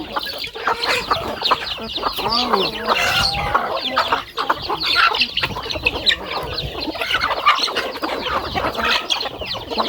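A flock of backyard farm chickens clucks and chatters continuously at close range, many birds overlapping loudly with no voices among them.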